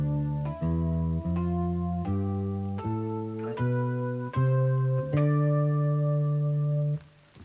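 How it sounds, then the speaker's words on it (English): A guitar plays a D Dorian scale, one clear sustained note after another ascending in steady rhythm, ringing out on the last note, alone with no voices. "the Dorian mode is simply like playing a major scale, but starting on the second step"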